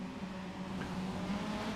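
Race cars in a Global MX-5 Cup sim-racing event at Summit Point, heard as a steady engine drone as the field exits turn 3 toward turn 4, continuous and moderately loud with no talk.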